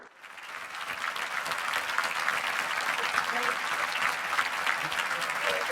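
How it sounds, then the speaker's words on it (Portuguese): An audience at a panel session on distributed generation breaks into sustained, even applause that swells quickly and holds at full strength, with many hands clapping close together. "Salva de palmas."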